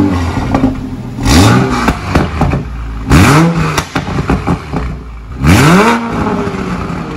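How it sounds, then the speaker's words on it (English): A 2020 Toyota Supra A90 fitted with an AMS Performance downpipe, revved three times in short bursts from idle, each rise and fall clearly audible, loud and close. "Give her a little rev."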